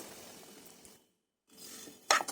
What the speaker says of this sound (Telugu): ఇప్పుడు సేమియాని కూడా వేయించుకోవాలి